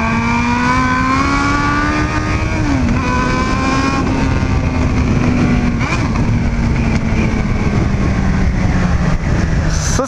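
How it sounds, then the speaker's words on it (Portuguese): A Hornet motorcycle engine drones steadily while riding, its pitch rising and dipping as it revs, loud and close with rushing wind throughout. "Que saudade que eu tava de andar nessa moto"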